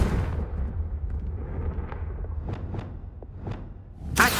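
A Confringo fire spell blast from Hogwarts Legacy, heard as several sharp crackling bursts and whooshes over a low rumble, ending in a loud close impact blast.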